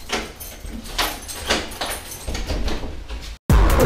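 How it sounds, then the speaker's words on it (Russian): A door being closed indoors, a rattling slide followed by a loud, abrupt bang at the end, over steady room noise. "Эту дверь закрываем?"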